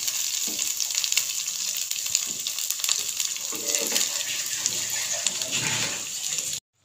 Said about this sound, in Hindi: हमने अच्छे से इसको भूनना है। बहुत ही प्यारी खुशबू आ रही है इसकी।